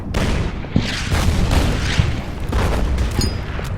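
Artillery fire in the Order of Battle Pacific war strategy game, a dense run of booming blasts and rumbling impacts packed close together, loud and continuous with no talk.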